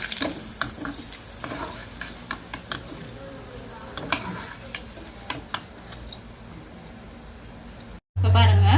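Corn frying in hot oil crackles and sizzles with sharp irregular pops and spatters close by over a steady hiss, cutting off abruptly near the end into a brief loud hum.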